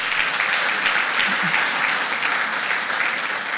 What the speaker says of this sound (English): let's give Heinz and Lovekie Church just a round of applause